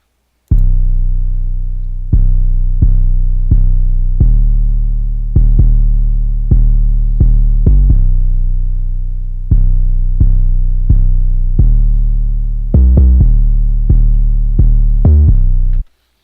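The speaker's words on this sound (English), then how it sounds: "It sits really good on the mix with this spins 808." Spinz 808 bass notes pounding through an FL Studio beat, loud deep booming hits in a steady rhythmic pattern with a few quick doubled notes, nothing else audible.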